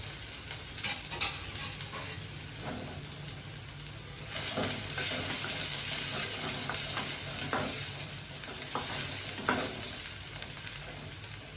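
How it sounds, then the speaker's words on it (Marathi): Finely chopped onion frying in plenty of hot oil for a wild leafy vegetable and mutton dish, a steady sizzle with occasional spoon scrapes and stirring, swelling louder midway, with no voices. "आणि तेल गरम झाले की कांदा घालायचा।"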